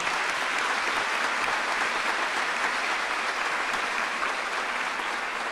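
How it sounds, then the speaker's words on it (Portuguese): Steady, dense applause from a church congregation at a Catholic prayer service, loud and continuous for about five seconds with no voices over it. "Vamos aplaudir a palavra do Senhor?"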